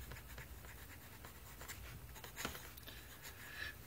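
A fountain pen scratches across thick paper in short strokes and scribbles, soft and close, with a few sharper scrapes standing out against a quiet background.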